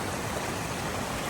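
Floodwater from a hurricane pours like a river across a road, a steady full-band rushing wash that is continuous and fairly faint across a brief moment.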